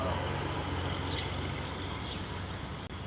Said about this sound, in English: So a lot of trucks are going to be coming up and down.